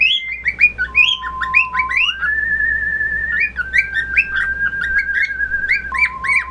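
Blue jay and other birds chirp and whistle outside in quick, repeated phrases, with warbling calls over a faint low hum and no talking.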